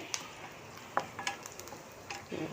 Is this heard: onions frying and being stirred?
yes